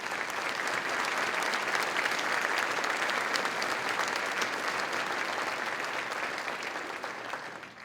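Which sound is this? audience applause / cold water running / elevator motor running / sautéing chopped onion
audience applause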